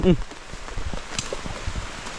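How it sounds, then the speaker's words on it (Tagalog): Steady rain patters and hisses on a surface, with scattered heavier drops and a brief voice at the start. "Tuloy ang ulan."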